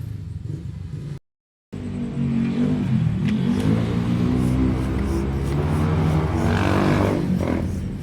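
A car engine cranks on the starter, catches, and revs in a sustained, loud rumble that rises and falls, preceded by a brief silent gap.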